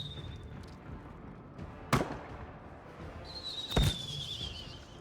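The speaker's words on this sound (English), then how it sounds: "Mortars from the right." Mortar fire in the war strategy video game Menace, heard as two sharp, loud blasts a couple of seconds apart over a low ambient bed, each with a brief whistling tone near it.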